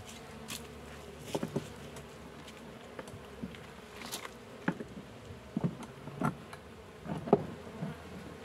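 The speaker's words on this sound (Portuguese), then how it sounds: "o barulho das abelhas tá até legal, não tem aquele barulho de enxame sem rainha" Soft, steady buzzing of many honeybees in a hive fills the background, not the sound of a queenless colony, with occasional light taps and clicks close by.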